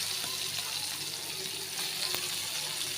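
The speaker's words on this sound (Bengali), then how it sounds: "তো এগুলো আমি একটু ভেজে নিব।" Onion and garlic frying in a pan with already-fried shrimp, a steady close crackling sizzle with faint liquid sounds running evenly throughout.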